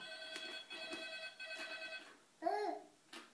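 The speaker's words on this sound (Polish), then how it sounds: "Gdzie jest różowy telefon?" A pink toy telephone rings in a home kitchen, a series of short electronic tones that stop and start again, followed by a brief louder burst that sounds like a voice.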